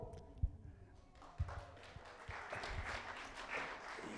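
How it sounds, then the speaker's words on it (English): A live audience at an evening interview event claps politely, a soft, quiet patter of applause that builds slowly after a few isolated taps. "They're clapping politely."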